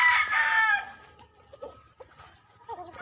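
A rooster crows once loudly and close at the start, followed by softer clucks and scattered farmyard chicken sounds in an open-air coop.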